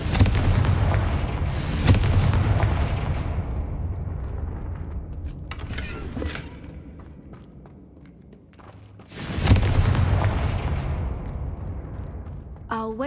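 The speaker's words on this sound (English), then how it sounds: "Confringo." Confringo fire spell explosions in Hogwarts Legacy: two loud, booming blasts a few seconds apart, each with a rumbling tail, plus smaller crackles and impacts between them.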